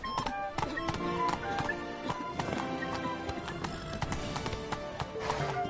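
Roach the horse gallops in The Witcher 3, with steady, rapid hoofbeats close by and a whinny mixed in, under a continuous game soundscape.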